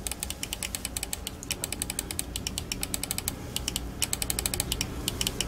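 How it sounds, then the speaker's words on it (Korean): Rapid, crisp clicks from a Logitech G Pro Superlight mouse with TTC Gold switches, close up, in quick bursts and steady runs of sharp ticks with brief pauses between sets. "로지텍 G 프로 슈퍼라이트 마우스에 적용된 TTC 골드의 클릭음입니다."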